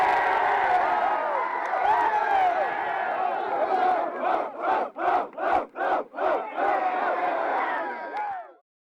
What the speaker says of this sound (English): But I think it's worth a little bit of some cheering.